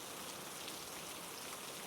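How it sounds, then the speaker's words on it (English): Steady rain patters against a window pane in a constant, even hiss of fine drops, close and soft, with no voices. "listening to the soft patter of rain against the window"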